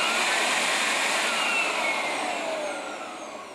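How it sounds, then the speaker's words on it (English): A newly installed motor set runs alone with a loud, steady, high whirring hum, its pitch gliding slowly downward as it winds down near the end; close, no voices. "I'm going to run each motor set individually just to make sure we don't have any grinding"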